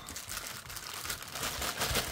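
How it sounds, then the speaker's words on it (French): Plastic or cardboard packaging of a Grandista Sasuke Uchiha figurine box being cut with scissors, giving continuous crinkling, rustling crunches across the whole stretch, steady and close with no talking. "C'est mon ciseau, je veux bien couper."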